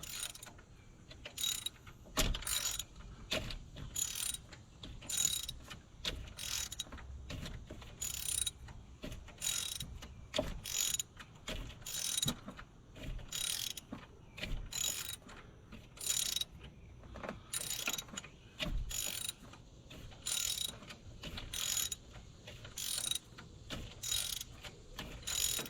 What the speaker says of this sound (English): Tighten this bolt here up.